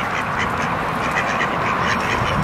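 A duck quacks repeatedly and steadily at close range as it is fed slices and small pieces of bread, its calls loud and continuous over outdoor background noise.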